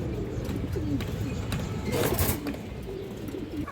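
Pigeons coo softly at a crowded pigeon market, with low, repeated calls half buried under a dense crowd din and a brief swell of noise in the middle.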